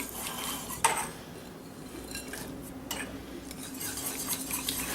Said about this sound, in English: Add a little bit, give it a stir.